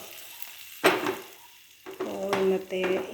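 Mustard seeds sizzle and crackle in hot oil while being tempered for a mango curry, with a sharp burst and then steady frying hiss that swells and fades close by.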